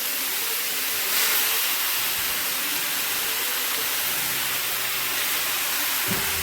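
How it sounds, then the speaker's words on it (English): Marinated chicken chunks and sweet potato sizzle in a cast iron pan, a steady broadband hiss that stays loud and even throughout, close by, with no talking. "I love that sizzle sound."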